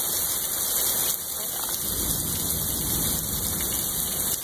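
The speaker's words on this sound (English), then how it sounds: "this rain is horrible" Heavy rain pours down steadily in a dense, constant hiss that stays loud and close throughout, with no break in the downpour.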